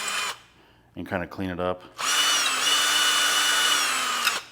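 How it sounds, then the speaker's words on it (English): A power drill runs through leftover epoxy in the rear sensor holes of a C8 Corvette's carbon fiber grill trim, first in a short burst and then in a steady, loud whine, with someone speaking briefly between them. "I'm just going to run a drill through it"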